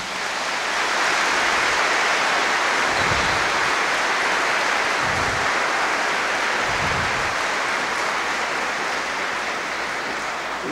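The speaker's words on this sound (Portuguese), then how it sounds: "Queremos saudar a todos com uma bonita salva de palmas" A congregation applauding during a Sunday Mass in a parish church: steady, dense clapping that stays loud and even throughout, like a wash of rain.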